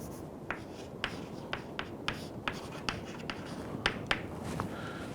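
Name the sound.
writing on a board while deriving an equation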